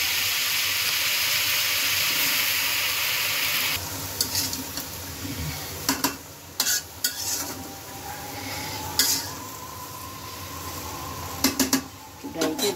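Freshly washed greens (shak) hit a hot pan with a loud, steady sizzling hiss that soon settles into quieter frying, broken by clinks and scrapes of a stirring utensil, with a voice speaking now and then.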